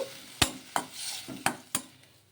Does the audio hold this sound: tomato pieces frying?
yes